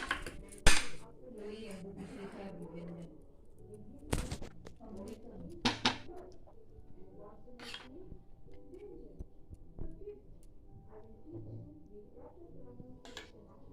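A spoon clinks and scrapes in a bowl while tandoori mayonnaise and plain mayonnaise are mixed, in a few sharp knocks between quieter stirring, and someone talks softly while pigeons coo in the background.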